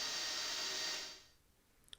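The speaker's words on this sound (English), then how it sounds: "And now drilling all the holes to accept the hardware." A drill boring holes through a wooden guitar pickguard gives a steady, fairly quiet whirring hiss that winds down after about a second, followed by near silence and a couple of small taps.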